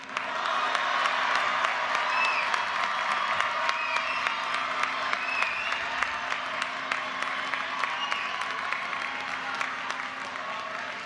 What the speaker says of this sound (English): Cheer loud and proud